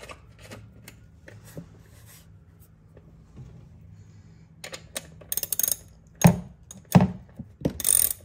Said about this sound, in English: Reinstall the bolt to hold the coil pack in place.